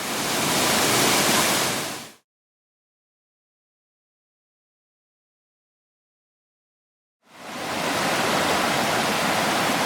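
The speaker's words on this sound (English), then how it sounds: "it is a really nice little waterfall" Gogandara Falls on the Coomera Circuit in Queensland, a small waterfall rushing steadily with a dense, even hiss, cutting out completely for several seconds midway before the roar returns.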